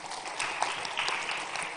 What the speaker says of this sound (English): Can we give a huge round of applause, please?